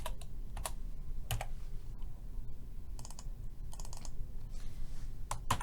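Typing on a computer keyboard while pasting with Control V: scattered clusters of sharp key clicks in irregular bursts, close and fairly quiet over a low room hum, with no talking.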